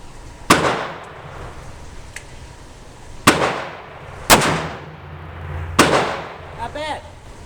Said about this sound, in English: I'm going to shoot one round